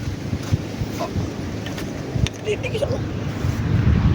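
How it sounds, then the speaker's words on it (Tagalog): Steady wind rumbling across the microphone outdoors, a constant low roar with occasional gusty thumps throughout. "malakas yung hangin"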